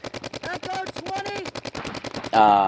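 Paintball markers firing in rapid, evenly spaced bursts during a tournament practice match, a dense staccato stream of sharp pops up close, with a voice and other sounds briefly overlapping near the end.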